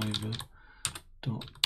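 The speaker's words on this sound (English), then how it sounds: "you just type in the file name, call it screwdriver.txt" A computer keyboard clicks in short bursts of typing at a Linux terminal while a file name is entered, close and fairly quiet, with soft breaks between the keystrokes.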